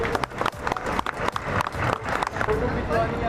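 At a bank's 70th anniversary celebration, a crowd claps for long-serving staff: a busy stream of overlapping claps mixed with voices talking throughout.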